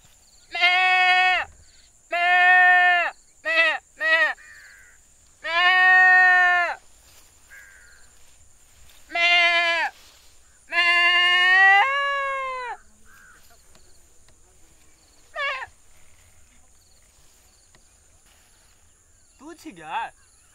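A person imitates a goat, giving a series of loud, close, tonal bleats in separate bursts, some short and some drawn out, with quieter calls spaced further apart toward the end.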